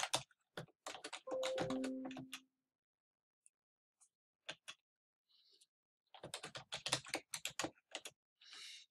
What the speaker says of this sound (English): We'll type in a few attributes here.